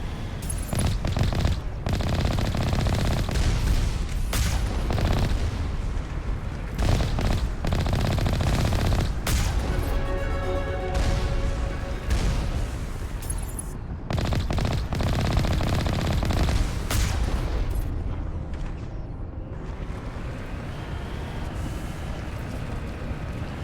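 Sustained video game gunfire with dense automatic bursts and explosive cracks, loud and nearly continuous for over twenty seconds, thinning slightly near the end.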